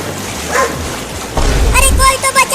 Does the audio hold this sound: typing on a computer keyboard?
no